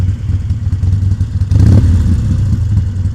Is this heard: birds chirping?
no